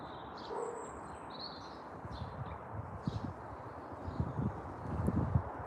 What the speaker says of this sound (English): I love listening to birds singing.